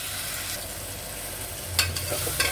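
Tomatoes sautéing in a pan for meal maker biryani: a close, even sizzle with a couple of sharp stirring scrapes near the end.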